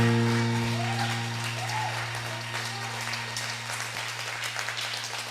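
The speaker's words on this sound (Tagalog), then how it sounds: "bigay nyo sa Lord ang palakpak na yan" Applause from a church congregation at a healing service, a sustained wash of many hands clapping together, steady and fairly loud, with a low hum running under it.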